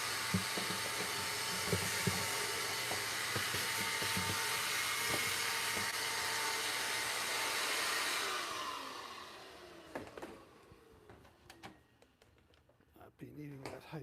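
A vacuum cleaner roars steadily in a workshop for several seconds, then winds down and shuts off, leaving scattered clicks and knocks of handling.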